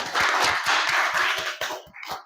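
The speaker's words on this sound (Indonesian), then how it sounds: "Oke, beri tepuk tangan." A classroom group claps hands continuously, a dense patter of many claps that thins out and fades near the end.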